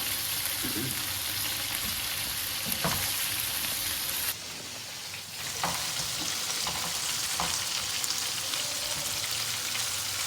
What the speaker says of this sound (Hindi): बड़ी अच्छी फ्राई हो रही है